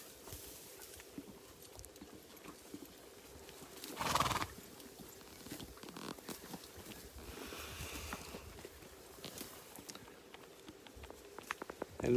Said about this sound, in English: And look at all the horses, all munching away